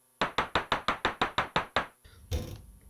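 Casio CZ101 synthesizer patch imitating a retro arcade walking effect like Dig Dug: about ten crisp, evenly spaced percussive plinks in a steady march, each decaying quickly, followed by a brief softer noisy burst.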